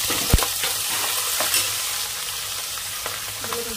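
Tempering for pulihora sizzles steadily in hot oil, asafoetida frying as the seasoning is stirred, with a few sharp spatula scrapes and small pops over a constant close hiss.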